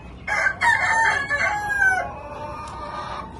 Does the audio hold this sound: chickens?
yes